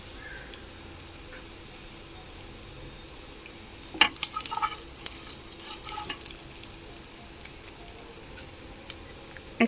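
Spoon stirring an egg chop mixture with spices in a pan, a light scraping and sizzling patter that starts partway through and continues in uneven strokes, close and moderate in level.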